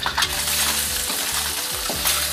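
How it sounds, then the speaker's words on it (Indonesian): Egg tofu sizzling and crackling steadily in a thin layer of leftover oil over medium-high heat, a close, continuous fry with brief stirring or scraping touches and no speech. "Lalu sisakan sedikit minyak dan goreng tahu telur."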